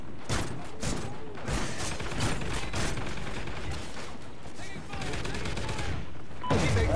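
Sustained, dense automatic gunfire from a Call of Duty: Ghosts battle, with continuous rapid bursts and heavy layered shots throughout and a louder blast at the end.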